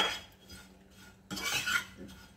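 Grated coconut is dry-roasted in a pan for mango laddoos, with soft scraping and stirring strokes and a louder burst of scraping partway through, and no voices.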